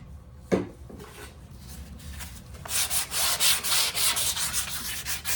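Light hand sanding across a laminate kitchen cabinet surface being repaired, a single tap first, then steady rhythmic back-and-forth rasping strokes growing louder and close up.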